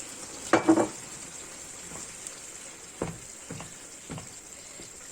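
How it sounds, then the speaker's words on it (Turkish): Hot water poured over beef frying in a pan bursts into a sharp hiss near the start, then a steady sizzle continues with occasional stirring scrapes and clinks, close up. "Biraz kavrulduktan sonra 2 su bardağı sıcak suyumu koyuyorum etimizin içerisine."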